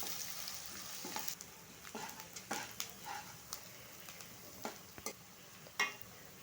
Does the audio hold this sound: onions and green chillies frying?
yes